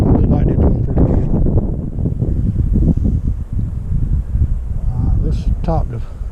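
Wind gusting outdoors beside a beehive during a January hive inspection, a loud low rumble buffeting the microphone throughout, with a voice talking over it.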